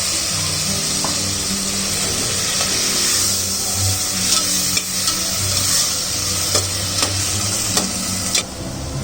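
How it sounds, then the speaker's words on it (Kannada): Ground masala of ginger, garlic, coriander and mint frying in a pan, with a steady close sizzle and scraping stirs throughout. "ಈಗ ರುಬ್ಬಿರೋಂಥ ಮಸಾಲೆ ಹಾಕೋತಾ ಇದ್ದೀನಿ. ಶುಂಠಿ, ಬೆಳ್ಳುಳ್ಳಿ, ಕೊತ್ತಂಬರಿ, ಪುದೀನ ಎಲ್ಲ ರುಬ್ಬಿರೋದನ್ನು ಹಾಕೋತಾ ಇದ್ದೀನಿ."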